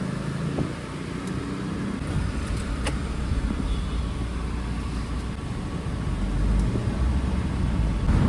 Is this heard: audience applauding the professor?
no